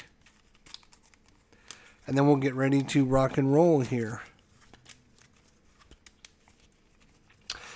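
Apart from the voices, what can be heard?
shuffling a deck of board game cards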